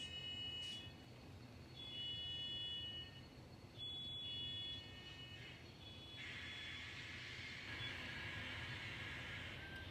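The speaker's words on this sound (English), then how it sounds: "Comes our next train." N scale model train running along a mainline layout, a faint steady motor hum and rolling rumble with high electronic whines coming and going.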